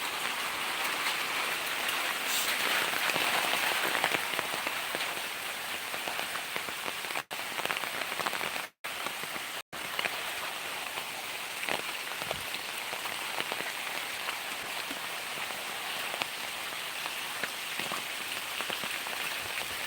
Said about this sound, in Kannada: ಕತ್ತಲೆ ಕಟ್ಟಿಕೊಂಡು ಮಳೆ ಬರ್ತಾ ಉಂಟು ಅಂತ